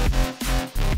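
Processed Serum synth bass layered with kick and snare drums, a loud, dense low groove with punchy hits and brief dips between notes, alone without talk.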